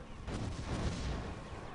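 Cannon tower fire in the Defense Grid tower-defense game: a loud burst of booming shots rolling together over under two seconds, fairly close.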